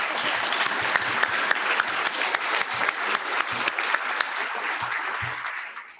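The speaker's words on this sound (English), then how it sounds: "That deserves applause." An audience at a school graduation ceremony applauds, a dense sustained round of clapping from many hands that fades out at the end, without talk.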